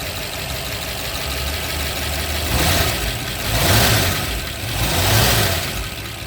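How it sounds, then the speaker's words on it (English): A restored 1966 Ford Mustang K-Code fastback's high-performance 289 V8 idles steadily up close, solid lifters ticking over a lumpy rumble that swells gently a few times. "There is your K-Code high performance 289 engine. You can really hear those solid lifters right now."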